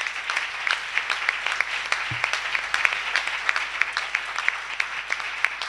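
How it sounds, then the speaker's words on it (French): A church congregation applauds loudly and steadily, with dense, continuous clapping that holds for several seconds with no voices over it. "Acclamons très fort le Seigneur Jésus-Christ."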